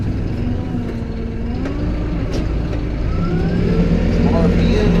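A big Kubota tractor engine idles and runs steadily after starting, a low, even drone with faint tonal whines and small clanks, set beside a rake in a rye field.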